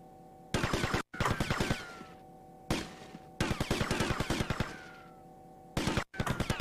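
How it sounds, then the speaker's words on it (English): Rapid bursts of gunfire ring out at the shooting range in GTA Vice City, loud, close and sharp, with each volley of quick shots followed by a short pause and a fading echo. "So I can actually kind of cheat and use this gun for the shooting range."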